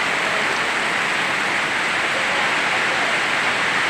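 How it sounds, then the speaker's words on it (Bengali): Heavy monsoon rain falls continuously at Mohonpur, a loud, unbroken wash of broadband hiss with no voices or other sounds over it. "দেখো বৃষ্টি হচ্ছে।"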